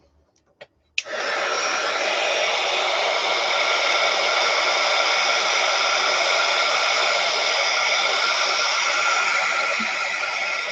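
Hair dryer blowing on Italian handmade watercolor paint, switching on after a couple of clicks and then running as a steady, loud, close whoosh that continues throughout.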